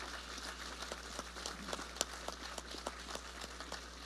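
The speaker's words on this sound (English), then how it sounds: "So please give the panelists a big round of applause." Applause from a conference audience honoring the panelists at the GBA Summit 2025, a scattered patter of claps with a few sharper hits over a steady low hum, moderately distant and without talk.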